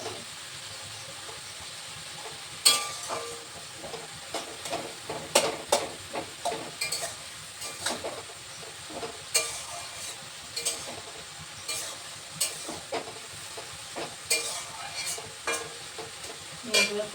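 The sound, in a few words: pointed gourd (potol) frying and being stirred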